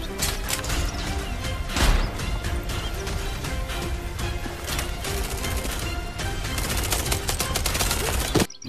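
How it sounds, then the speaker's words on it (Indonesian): A toy gun fires rapid electronic shooting sound effects, a loud continuous stream of bursts and crackles with a brief louder crash near the start. "ada mainan tembak-tembakan"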